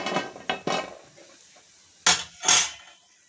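Fried crispy snacks are lifted out of the pan onto a plate with a few metallic scrapes and clinks of a utensil against cookware, short separate bursts with quiet gaps between them.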